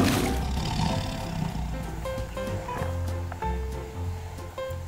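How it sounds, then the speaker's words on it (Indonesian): A tiger lets out a deep, rumbling roar at close range, with sustained tonal sounds running underneath throughout. "ini namanya harimau teman-teman"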